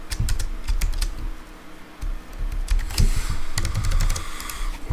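Fingers type Haskell code on a computer keyboard in quick irregular bursts of close, crisp key clicks, with a brief pause before a denser flurry, no talk.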